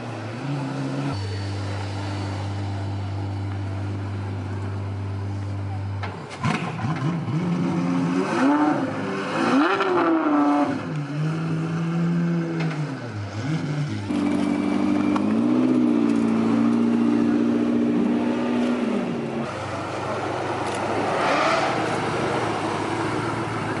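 Apollo Intensa Emozione hypercar at the Goodwood Festival of Speed 2018 revs at full throttle, a loud close engine note rising and falling through several sharp climbs in pitch over a steady outdoor crowd-and-event background.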